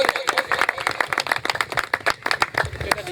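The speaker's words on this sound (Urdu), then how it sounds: "بھرپور تالیاں بجا دیں علی امجد بھائی کے لیے" Audience clapping for a speaker at a foundation event, a dense, uneven patter of many hands close by, with voices mixed in.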